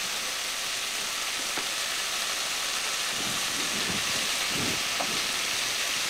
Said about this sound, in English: Next goes in peas. Fry them for a while.